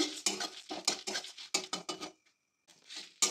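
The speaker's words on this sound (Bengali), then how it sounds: "গ্যাসের একটু ভাজা ভাজা করে নেবো" Dried red chillies, cumin and whole coriander seeds dry-roast in a pan on a gas stove, stirred with a utensil in quick repeated rattling scrapes, a brief pause, then more scraping, close and loud with no talking.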